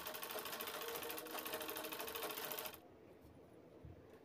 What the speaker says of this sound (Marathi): आतल्या साईडने हा कपडा दुमडून कोपऱ्यावरून शिवून घ्यायचा आहे साईडनं.